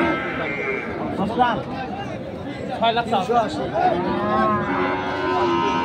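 Cattle lowing amid the bustle of a large Friday cattle and goat market in Chittagong, with a few deep moos rising over constant crowd chatter and people talking close by.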